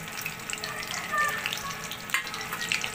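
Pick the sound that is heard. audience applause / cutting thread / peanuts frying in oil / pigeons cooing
peanuts frying in oil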